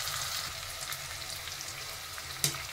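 Curry leaves hit a hot-oil tempering of popped seasoning seeds and finely sliced onion. A faint, even sizzle holds throughout, broken near the end by one sharp pop or spatter.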